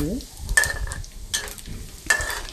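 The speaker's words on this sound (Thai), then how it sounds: "น้ำมันเจียวนะคะ ก็จะเป็นกากหมู" Pork fat fries in hot oil to make cracklings, sizzling steadily with three loud bursts of stirring and scraping spaced about a second apart.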